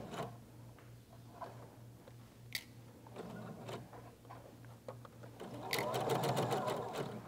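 Sewing machine stitching a sundress, faint and close, with scattered ticks and handling noises before a denser burst of rapid stitching near the end; a voice is briefly present.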